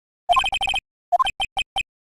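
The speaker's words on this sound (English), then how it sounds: "His cell phone ringtone is the same as his theme." A short electronic cell phone ringtone melody in a video game plays in two bursts of quick tonal beeps, a brief pause between them, clear and close with no voices.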